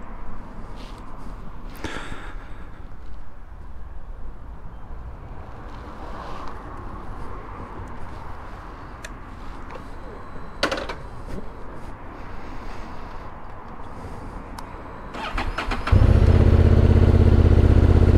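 A 2023 Honda CB750 Hornet motorcycle engine fires up near the end after a long stretch of quiet outdoor background, then settles into a loud, close, steady low rumble.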